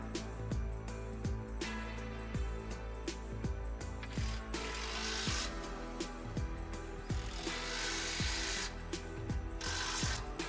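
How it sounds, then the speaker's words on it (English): Ratchet tightening sway bar drop bracket bolts to a truck frame, rapid repeated clicking strokes in a steady rhythm, close and clear with no talk. "install the drop brackets to the frame and tighten them down with the stock hardware"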